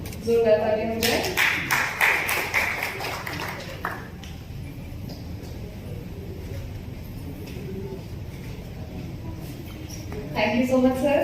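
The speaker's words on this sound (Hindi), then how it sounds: "जोरदार तालियां हो जाए।" Applause at an honorary doctorate award ceremony, a burst of many hands clapping for about three seconds that fades into a murmuring room, then swells again near the end over a speaking voice.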